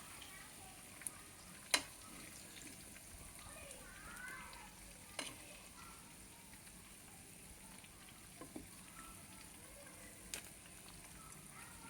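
Koftas fry in oil in a kitchen pan, a soft continuous sizzle heard close up with occasional sharp clicks of utensils against the pan.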